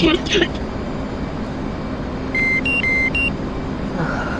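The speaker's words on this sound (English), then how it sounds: "You're going to be hearing this deedle a lot." Repeating electronic warning tone in a DCS flight simulator cockpit, alternating between two pitches in a short series of beeps over steady engine and cockpit background noise.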